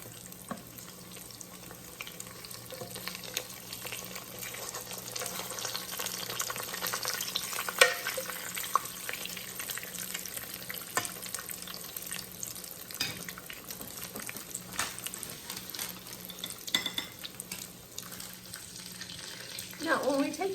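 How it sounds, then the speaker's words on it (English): Southern fried pies sizzle and crackle steadily in hot oil, a continuous close frying hiss with occasional sharper pops and a brief clatter near the end, no talking. "About 3 minutes on one side, then I'm going to flip them over and fry them about 3 minutes on the other side."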